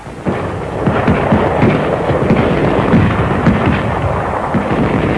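Combat explosions from bangalore torpedoes and grenades during the 1944 WWII attack on the Marshall Islands, heard as a dense, continuous rumble of loud overlapping blasts and crackling detonations with no clear gaps.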